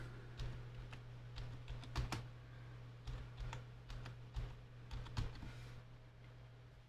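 Keys tapped on a computer keyboard in bursts of quick clicks, fairly close and quiet over a steady low electrical hum, with no one talking.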